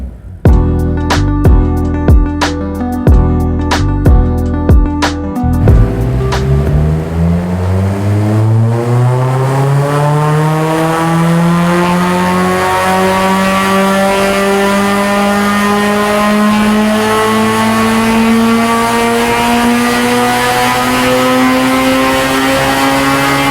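Honda Civic Type R EP3 with drop-in cams, freshly ECU-remapped, on a dyno: a few sharp blips of the engine, then one sustained power run with the revs climbing steadily and loud toward redline, close and continuous.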